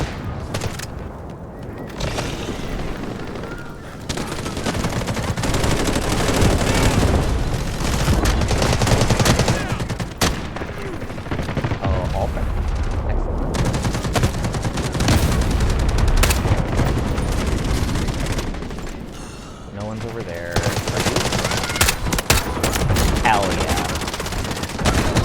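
Gunfire rattles almost nonstop in a Delta Force firefight, with rapid automatic bursts, single sharp shots and occasional booms, loud and dense across the whole stretch with brief lulls.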